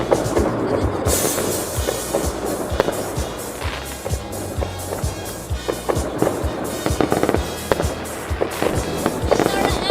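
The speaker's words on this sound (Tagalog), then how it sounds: "Sa mga paputok dito." Dense New Year fireworks and firecrackers in the Philippines crackle and bang nonstop, with sharp repeated explosions over a constant roar of distant blasts, loud and close throughout.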